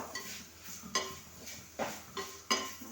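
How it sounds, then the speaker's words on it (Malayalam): Mango pieces with turmeric powder being sautéed in a pan: a quiet sizzle under repeated scraping clinks of a spoon against metal, five or so distinct strokes at an uneven pace, no talk. "മഞ്ഞളിൻ്റെ പൊടി ഇട്ട് കൊടുത്തു പിന്നെ ഈ മാങ്ങയും അതിൻ്റെ കൂടെ ഇട്ടൊന്ന് നമുക്കൊന്ന് നല്ല ഇങ്ങനെ വഴറ്റി കൊടുക്കാം"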